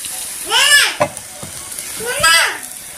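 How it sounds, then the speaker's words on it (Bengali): Fish roe sizzling steadily as it fries in a pan, with a soft crackle running beneath two bursts of children's voices nearby. "মাছের ডিম ভাজা হয়ে গেছে"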